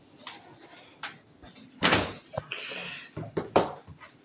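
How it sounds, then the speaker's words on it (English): A door in a home kitchen shuts with a solid thump, followed by a few smaller knocks and clatters, with light talking nearby. "Close the door."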